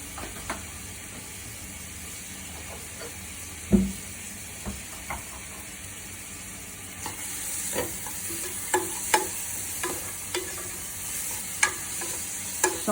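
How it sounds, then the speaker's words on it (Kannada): Finely chopped onions fry in hot oil in a pan for Suvarna gedde (elephant foot yam) sambar, giving a steady close sizzle with a hiss that builds over time and sharp scrapes and clinks of stirring at irregular intervals. "ಸೊ ಆನಿಯನ್ ಈಗ ಫ್ರೈ ಮಾಡ್ಕೊಳ್ಳೋಣ."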